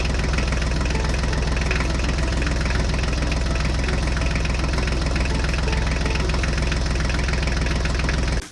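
A Mahindra tractor engine runs with a steady, loud, unbroken idling rumble and fine rhythmic knocking throughout, with no voices, before cutting off abruptly at the end.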